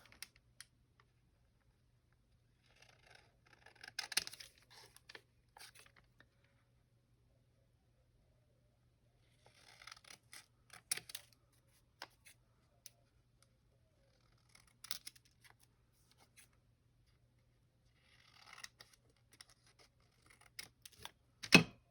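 Scissors snipping through paper while journal tags are cut out, a few short bursts of faint crisp cuts separated by quiet pauses, close and alone with no talking.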